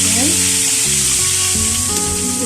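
Mint and onion sizzling hard in hot oil for tarhana soup, a loud, dense, continuous hiss with soft music underneath.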